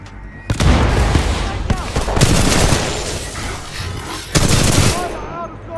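Heavy Titanfall 2 gunfire erupts in sustained automatic bursts, loud and close, with several distinct volleys and voices calling out over the shooting.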